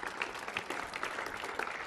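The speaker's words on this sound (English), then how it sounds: "Let's give them another round of applause." Audience at the opening of United Airlines Field at the Coliseum giving a round of applause, a steady wash of many hands clapping, moderately distant and even throughout, with no voices standing out.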